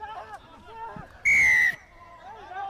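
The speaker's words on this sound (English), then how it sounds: "And the referee goes for the whistle once again." Referee's whistle at a Nippon Paint rugby league match between Navy SC and CR & FC, one loud sustained blast of about half a second cutting through crowd noise and commentary.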